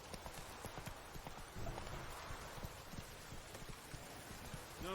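Roach, the horse in The Witcher 3, walks on a game surface, giving quiet, steady clip-clop hoofbeats in an even rhythm with faint rustling behind them.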